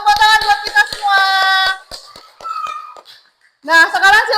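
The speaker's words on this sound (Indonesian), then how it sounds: "Tepuk tangan buat kita semua." A class of students in a coding and artificial intelligence training lesson claps hands in short patterned bursts, with voices chanting and talking loudly over the sharp claps.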